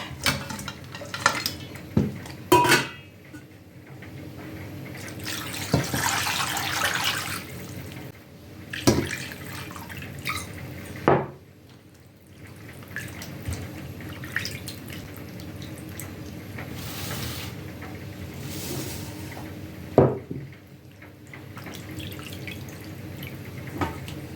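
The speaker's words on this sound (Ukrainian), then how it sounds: "рибку, рибку промиємо" Fish is rinsed in water at a kitchen sink. Dishes clink, water drips and splashes, and utensils give scattered clatters at close range.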